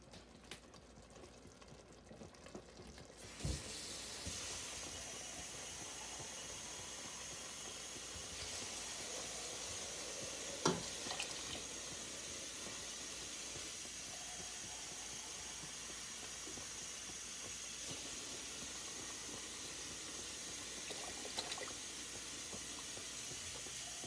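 Water poured into a hot pan of meat for chili mac sets off a sudden loud hiss, which settles into steady sizzling and steaming close by.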